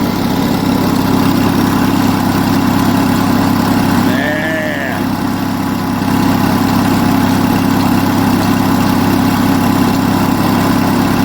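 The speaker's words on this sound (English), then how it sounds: "I hope you can hear me over the engine" An Onan US military generator engine idles nearby with a constant low rumble throughout, while a voice speaks briefly over the noise.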